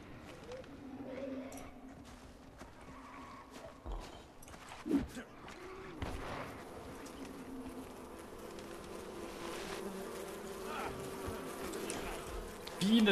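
Bees buzzing in the jungle wilds of Far Cry Primal, a steady insect drone under game ambience with a few brief thuds and rustles, and someone talking over parts of it.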